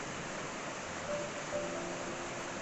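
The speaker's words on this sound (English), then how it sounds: "All right, here we are at Bully Brook. Nice little cascade up there." Small waterfall cascade at Bully Brook on the Long Trail in Vermont, a steady broadband rush of falling water, soft and continuous without a break.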